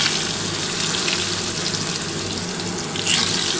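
Round potato slices frying in hot oil give a steady, dense sizzling hiss, close and fairly loud, with a brief swell near the end.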